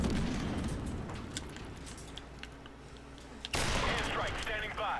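Rapid bursts of gunfire in a video game battle, sustained shots at moderate distance with a sharp loud burst near the end, game voices faintly underneath.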